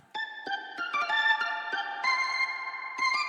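A sustained organ tone from an M1 synth plugin playing a series of chords, each change marked by a soft attack, steady and fairly loud with no voices.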